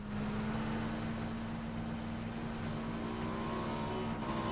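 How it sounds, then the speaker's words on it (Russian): A motorcycle engine revs in a video game, a steady buzzing drone with a rising whine toward the end, heard alone without talk. "стрим-снайпер на мотоцикле"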